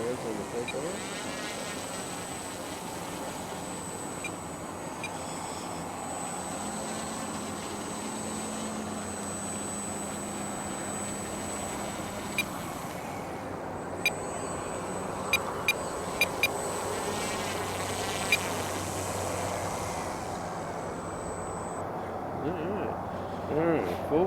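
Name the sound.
E-flite Timber RC airplane on floats taking off from water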